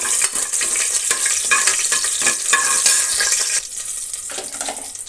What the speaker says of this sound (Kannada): ಚಕ್ಕೆ ಒಂದು ಐದಾರು ಲವಂಗ ಒಂದು ಏಲಕ್ಕಿ ಕಾಯಿ ಇಷ್ಟನ್ನು ನಾವು ಫ್ರೈ ಮಾಡೋಣ